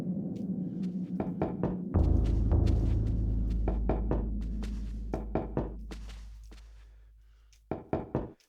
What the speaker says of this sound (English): Knocking on this cask results in a hollow thud.